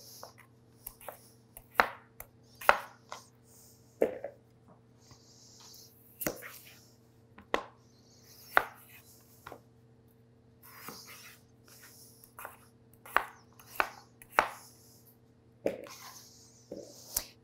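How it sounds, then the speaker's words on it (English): A knife dices potatoes into small chunks on a cutting board, giving sharp, irregular chopping strikes at close range over a low steady background hum, with no talk. "You're going to now dice these potatoes into nice little chunks."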